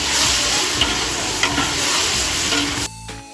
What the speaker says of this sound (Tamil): இப்போ தக்காளி சேர்த்து நல்லா வதக்கிக்கலாம்.